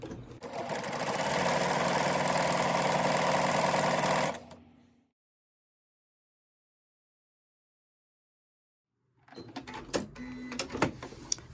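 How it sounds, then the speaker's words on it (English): A sewing machine runs a steady zigzag stitch through a fabric heart appliqué on a scrap-fabric mug rug for about four seconds, then stops; after a silent pause, faint handling clicks and rustles follow. "So I'm just going to place my presser foot down and I'm just going to start sewing."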